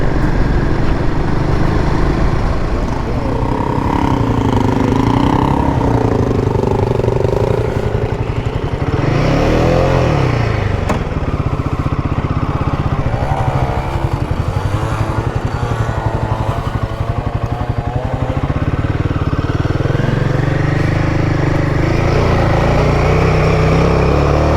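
Dirt bike engine running continuously in Toolangi State Forest on a foggy track, a loud near motorcycle drone that revs and surges, with the pitch climbing and dropping as the rider accelerates and eases off, with no pauses.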